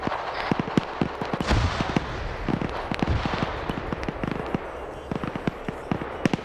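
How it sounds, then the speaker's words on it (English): Grenade explosions in a military video game set off a rapid run of sharp, loud cracking bursts with a few deeper booms, packed closely over several seconds of constant noise. "Fire in the hole, fire in the hole, fire in the hole."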